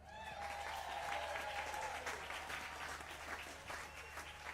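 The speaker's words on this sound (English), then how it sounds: "can you give a big round of applause to all the lads out the back who've just got the power back on?" An audience applauds the crew who got the power back on at a rainy outdoor brass band show, a broad steady wash of clapping from many hands with a faint tone fading beneath, moderately distant and sustained.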